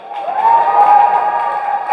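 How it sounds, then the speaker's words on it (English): Spectators cheer loudly after a school physics boat race, with a sustained chorus of raised voices, including high, shouting children, holding close and strong for two seconds. "And the crowd erupts in applause"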